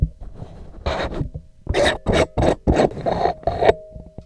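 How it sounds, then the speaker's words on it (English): Unscrewing the thin plastic windscreen of a FiFine K658 USB dynamic microphone: a series of close, short scraping and rasping twists with brief pauses, no talk. "You can't just pull it off. You have to unscrew it."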